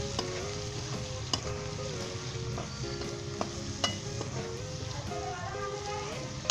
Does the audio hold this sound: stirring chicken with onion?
yes